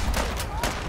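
Rapid weapon gunfire from the video game Fallout 4 Far Harbor, a dense burst of shots filling the moment, loud and continuous with no gaps.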